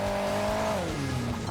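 A race car engine in the mobile game Hill Climb Racing 2 drones loudly and steadily, its pitch holding and then sliding lower as it eases off, with tire noise mixed in.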